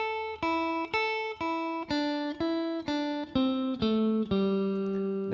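Guitar slowly plays a riff, about ten clear plucked notes in an even rhythm, each ringing briefly before the next, alone and close.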